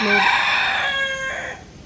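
A rooster crows once, loud and close, a long drawn-out call that fades at the end.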